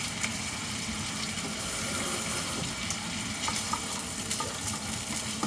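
Minced chashu pork frying for kimchi fried rice on maximum heat, a steady loud hiss and crackle with stirring scrapes, close up and continuous, no talk.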